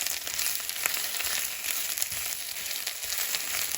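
Spinach sizzling in a hot pan for a keto spinach quiche, with a steady, close frying hiss and faint scrapes of stirring throughout, no talking.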